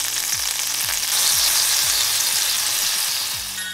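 Frozen cubes of oil dropped into a hot skillet, a loud continuous sizzle with repeated low thuds and spatters as pieces land and melt, close by with no talking.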